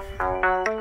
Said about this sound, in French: T'entends, ça c'est le téléphone.